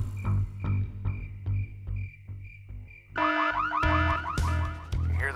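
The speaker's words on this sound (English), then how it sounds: "Activate that alarm." In the video game Full Throttle Remastered, an alarm first beeps in short regular pulses over a low droning rumble, then switches to a louder rising and falling warble, continuous and close without any speech.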